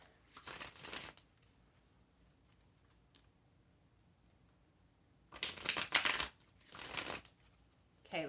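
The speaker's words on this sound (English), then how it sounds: "Let me actually shuffle this real quick." Tarot cards are shuffled in three quick riffling bursts, close and crisp, separated by quiet pauses with faint handling sounds.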